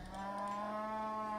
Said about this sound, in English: Here's the cow.